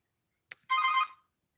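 A telephone rings once, a short electronic trill preceded by a faint click, close and clear against an otherwise silent background.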